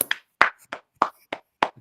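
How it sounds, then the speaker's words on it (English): Six sharp, separate hand claps ring out close and fairly loud, spaced at an even, deliberate beat with silence between them, at a wrestling talk show. "Clap. Clap for me."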